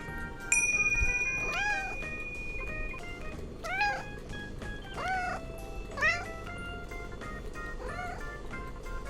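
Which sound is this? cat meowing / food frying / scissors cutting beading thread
cat meowing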